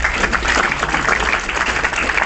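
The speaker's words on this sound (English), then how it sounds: "give yourselves a round of applause" Applause from the audience of a live show, a dense wash of clapping at close range that holds steady for a couple of seconds.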